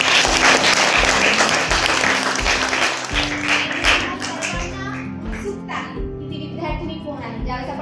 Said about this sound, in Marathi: एकदा त्या फर्स्ट येणाऱ्या विद्यार्थिनीसाठी जोरदार टाळ्या।